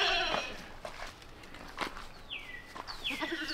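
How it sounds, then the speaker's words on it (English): Goats bleat in a yard, a mother goat among them, with a sharp cry at the start and two more wavering bleats later, close and fairly loud over light outdoor background noise. "The mama goat."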